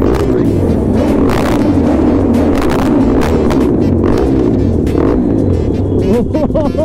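Motorcycle engine droning loudly and continuously inside a tunnel, with a reverberant, steady roar of road traffic and engine noise throughout.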